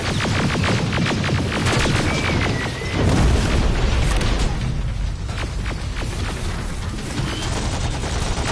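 Grenade explosions in the Terminator Resistance video game, heard as continuous heavy booms mixed with rapid gunfire, loud and dense, with a deep blast near the middle and no pauses.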